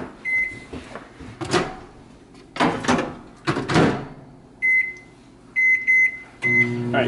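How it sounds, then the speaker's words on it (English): A microwave oven heats a Chipotle bowl with a low steady hum, broken by clunks of the door opening and closing and several sharp high beeps from the keypad and timer. "you take your Chipotle bowl and you just put it in the microwave for 2 minutes"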